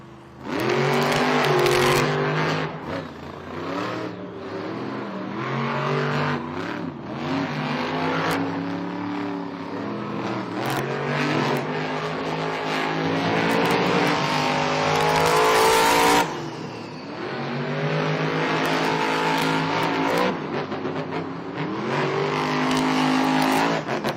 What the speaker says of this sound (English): Tyler Menninga, a huge target on his back as he gets set here for Monster Jam Racing.